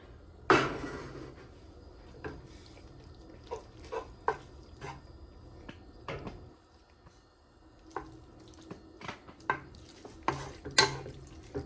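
Spaghetti being stirred and mixed in a pan with homemade sauce, soft scraping and clinking of a utensil against the pan in scattered irregular strokes, quiet and close with no talk.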